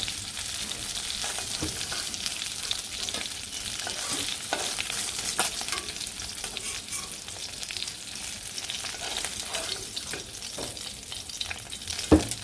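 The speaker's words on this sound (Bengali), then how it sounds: "এই দুটো একটু ভাজি ভাজি নেব তারপরে নামাবো মাছ ভাজি নামিয়ে নিছি" Fish and okra fry in oil with a steady, close sizzle, broken by occasional scrapes and stirs of the spatula, and nobody speaks.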